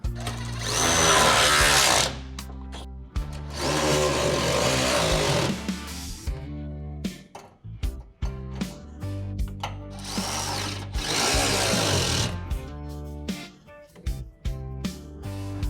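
A power tool tightens bolts during a Pacbrake rear air spring install on a Ford F-150, firing in loud close bursts of whirring and rattling separated by short pauses.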